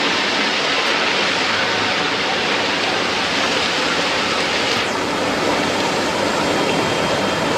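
Rock slide on a forested shore of Chile's Pacific coast, heard from a passing boat as a continuous broadband roar of tumbling rock and rushing noise, loud and unbroken throughout.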